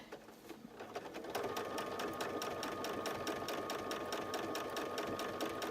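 Sewing machine stitching steadily while quilting along a line drawn in friction pen, a close, even rapid rhythm that runs alone with no talking.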